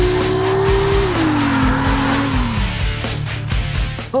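A car drifts in CarX Drift Racing 2, the engine howling at high revs and dropping in pitch while tires squeal steadily beneath, loud and close with brief rhythmic gear or limiter stutters.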